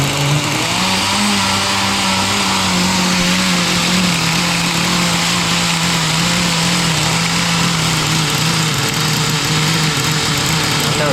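Kyosho Blizzard tracked nitro RC vehicle engine running close and loud, a steady buzzing idle with slight pitch wavering and no pauses.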